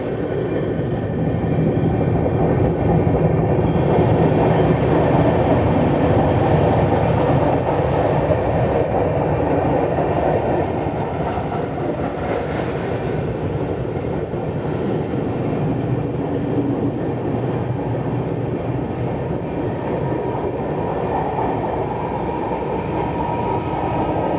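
The Visakhapatnam–Mumbai LTT SF Express rolls slowly through Jalgaon Junction, its carriages giving a continuous, loud rumble and rattle with no voices.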